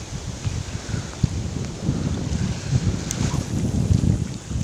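Strong wind buffets the microphone at a dam during feeder fishing, a steady low roar with gusts that swell toward the end, sounding close and rough, with no voices.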